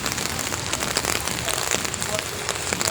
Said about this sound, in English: So I'll take you for this walk in the rain in Mineola here.